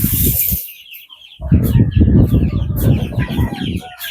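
Chickens cluck in a backyard garden with rabbits and chicks nearby, a dense flurry of close clucking and fowl calls that breaks briefly, then resumes loud and busy.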